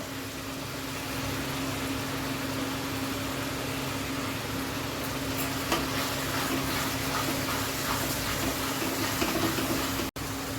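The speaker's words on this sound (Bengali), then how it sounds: "এখন এটাকে আমি ভালো করে কষাবো।" Fish curry masala with chilli and cumin powder sizzles steadily in a pan as it is sautéed, a close continuous hiss with faint scraping stirs and no speech.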